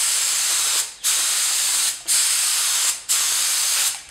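Harbor Freight purple HVLP spray gun spraying Benjamin Moore Advance paint, a loud, steady airy hiss cut by four brief trigger releases at roughly one-second intervals.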